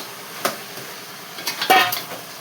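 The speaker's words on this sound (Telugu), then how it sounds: "ఇప్పుడు వంకాయ వేసేసుకుందాం" Brinjal pieces dropped into a cooking pan, a few close knocks and clatters of metal and vegetable, the loudest cluster near the end.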